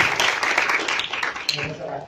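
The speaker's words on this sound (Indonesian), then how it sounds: "Tepuk tangan untuk Tuhan Yesus" A church congregation at Gereja Tiberias breaks into brief, lively applause that fades over two seconds, with voices audible among the clapping.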